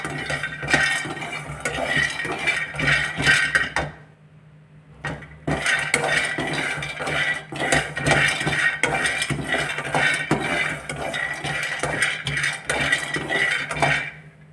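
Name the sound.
almonds being fried in a pan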